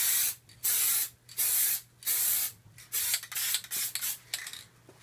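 Contact adhesive sprayed from an aerosol can onto throwaway corrugated cardboard in several loud, hissing bursts of about a second each, separated by brief pauses, over a faint steady background hum.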